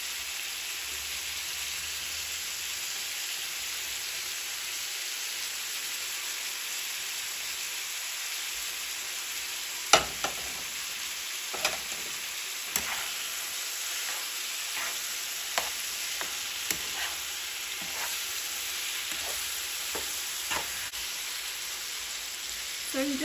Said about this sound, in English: So you just want to brown the meat.